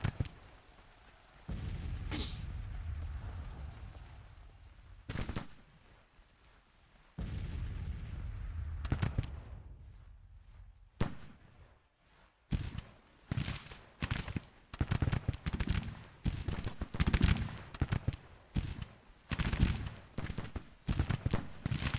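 Deep booms of Civil War artillery and crackling musket fire in Grand Tactician: The Civil War roll out at irregular intervals, some distant and rumbling, others sharper and closer, building into dense rapid volleys toward the end.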